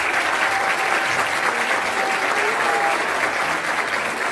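Audience applauding loudly and steadily at a talent show as Diego Coronel, winner of the first season of Got Talent, is welcomed, a dense even roar of clapping filling the hall.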